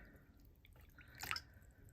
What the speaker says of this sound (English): I'm going to finish filling this up with water.